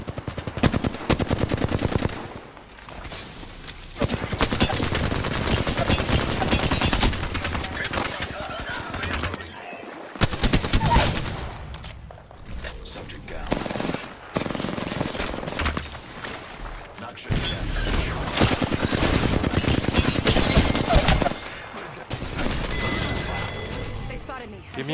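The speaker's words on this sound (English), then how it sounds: "Getting shot at." Bursts of automatic gunfire from a shooter video game crackle in dense, sustained volleys, broken by a short lull around the ten-second mark, with players talking over the noise.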